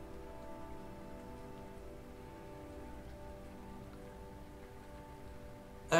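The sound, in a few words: rain falling in the video game Rainswept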